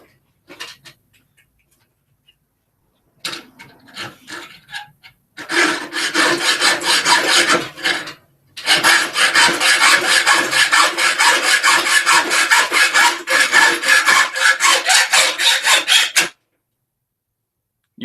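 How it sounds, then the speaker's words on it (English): Hacksaw blade cuts small pieces for a prop hidden blade, sounding loud and close: a brief rasping stretch, then two long bouts of steady back-and-forth sawing split by a short pause, with near silence before and after. "You are going to be watching me saw little bits and pieces for some time now"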